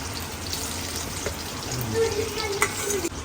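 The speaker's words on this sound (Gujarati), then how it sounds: "તો તેલ ગરમ થઈ ગયું છે, તો આપણે કેપ્સિકમ નાખીશું." Capsicum frying in hot oil makes a loud, dense hiss of sizzling that swells briefly near the end.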